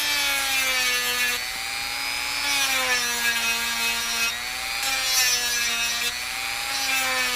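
A Dremel rotary tool whines as it grinds an undercut into a Glock pistol's polymer frame, a steady high-pitched tone that dips and rises in pitch as the load changes, close and alone.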